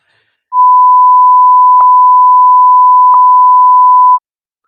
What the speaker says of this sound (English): You're going to have to do some beeping. Yeah, beep, beep, beep.